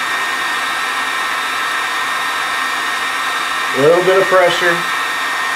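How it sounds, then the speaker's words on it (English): A heat gun blows a steady, loud hiss while warming PVC pipe so it can be bent for a mini greenhouse frame on raised beds, running continuously as someone speaks briefly near the end. "don't put this heat gun too close because it will brown your PVC"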